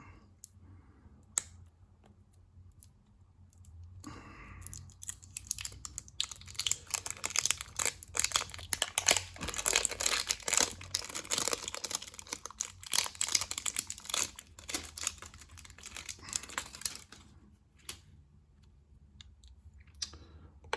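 A board game box being opened: crinkling packaging and scattered clicks crackle at moderate loudness through the middle stretch, quieter at the start and end, with no talk.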